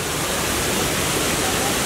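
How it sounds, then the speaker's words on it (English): Kawasan Falls in the Philippines, a steady broadband roar of falling water filling the scene, constant and close with no pauses or talk. "Kawasan Falls here in the house, and Annika's already in the water"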